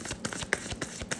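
A deck of tarot cards is shuffled by hand in a quick run of soft, rhythmic papery taps and riffles, close and fairly quiet, with no voices.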